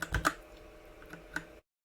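A few quick computer keyboard keystrokes click close by, a short burst of three taps followed by a pause and a couple more isolated presses, with no other sound around them.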